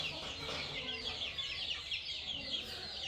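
Chicks and hens of a Lal Badshah line cluck and cheep steadily from cages on a poultry farm, a dense continuous twittering chorus close by with no clear pauses.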